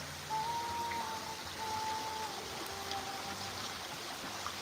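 Water flows steadily at a nature-themed cafe, a continuous soft rushing wash with no breaks. A thin whistle-like tone drifts in briefly, and no one speaks.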